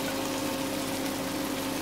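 Lightly toasted bread pieces tumble into a pan for bread upma alongside green onions, giving a steady soft frying sizzle throughout with a brief louder clatter of stirring near the end.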